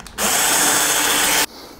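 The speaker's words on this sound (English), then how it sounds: "because I'm drilling on the stud, I don't need these. I'm gonna use a 7/64 drill bit." A power drill with a 7/64 bit bores into a wall stud in one continuous, loud, close whine lasting just over a second, cutting off abruptly with no talking.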